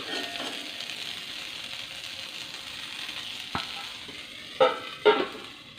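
Drumstick leaves cook in a pan with a low steady sizzle, broken near the end by a few sharp scraping knocks of a spoon stirring, close by.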